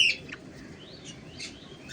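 Healthy, active breeding birds kept for sale in Nellore give soft, scattered chirps and short tweets over a steady low background hum, with no clear song pattern.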